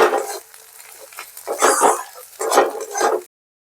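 Spice masala with coriander powder fries in a pan, giving bursts of sizzling and scraping as it is stirred, loud and close, with brief quieter gaps between strokes before the sound cuts off.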